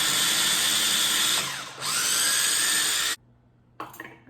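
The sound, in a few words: small electric grinder grinding ginger and garlic into paste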